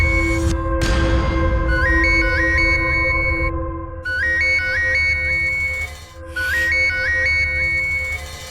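A phone ringtone plays a repeating electronic melody of quick rising notes over a steady tonal drone in a dramatized crime scene, loud and continuous with brief pauses between phrases.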